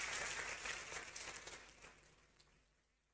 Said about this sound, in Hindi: तो जोरदार तालियां बजाएं।